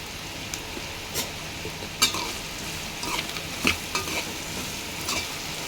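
Bitter gourd and tomato curry is stirred in a pan over a soft, continuous sizzle, with a few light scrapes and taps of the spoon rising close by and no voices.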